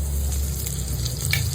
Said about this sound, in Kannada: ಪ್ಯಾನ್ ಹೀಟ್ ಆದ್ಮೇಲೆ ನಾನು ಸ್ವಲ್ಪ ಬೆಣ್ಣೆನ ಹಾಕ್ತಾ ಇದ್ದೀನಿ